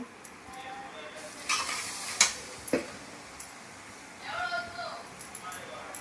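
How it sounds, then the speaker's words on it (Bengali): Soft sizzling of spices frying in a pan with scraping and stirring clinks, a few sharper clatters, and a voice briefly speaking toward the end. "এগুলো ভাজতে থাকছি। এগুলো ভাজা ভাজা হয়ে গেল।"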